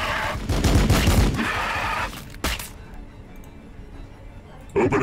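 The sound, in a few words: gunfire in Warhammer 40k Battle Sector video game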